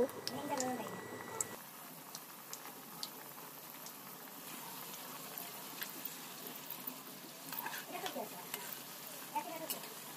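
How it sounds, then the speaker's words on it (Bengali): Vegetable and egg snacks frying in oil over low heat give a faint, steady sizzle and gentle bubbling with occasional light pops, heard from close by. "প্রত্যেকটি করে এবার তেলের মধ্যে অল্প আঁচে ভেজে নেব"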